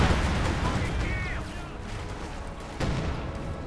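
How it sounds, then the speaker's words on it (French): A synchronized artillery barrage in the video game Company of Heroes 2, a rumbling wash of heavy booms and crackling impacts, dense and loud throughout, with a fresh blast near the end. "je vais utiliser mon barrage d'artillerie synchronisée"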